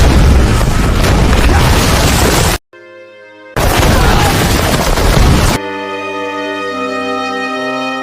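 Grenades thrown by an Allied soldier burst in loud, broadband blasts in a war film battle scene, two sustained explosive roars split by a brief tonal musical pause, then giving way to swelling orchestral score.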